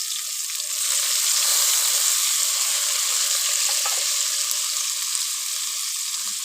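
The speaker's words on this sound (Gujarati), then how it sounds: "હવે થોડાક ટમેટા નાખી દઈશું." Tomatoes and onions fry together in a pan for a sev tameta curry, making a steady, bright sizzle close up with faint stirring ticks, and no one speaks.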